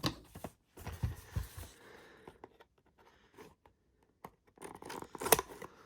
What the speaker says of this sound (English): Always be careful in using scissors.